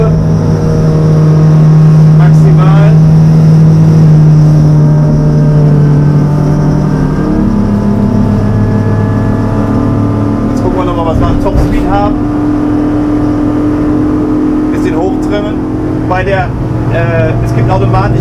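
Nimbus Commuter 9 motorboat with a sterndrive engine holding a loud, steady drone through a very tight turn, pitch shifting as it banks, with someone talking over the engine throughout.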